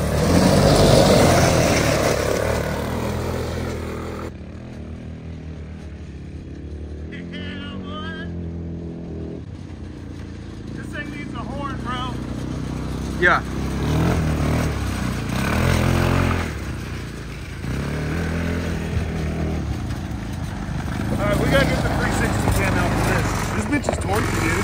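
Hammerhead 250 go-kart engine running and driving over gravel, a loud buzzing drone that rises and falls with throttle, with voices talking over it.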